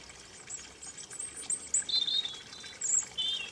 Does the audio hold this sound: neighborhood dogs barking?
no